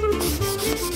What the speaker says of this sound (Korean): 복장부터 제대로 갖추고 사포질부터 시작을 했는데요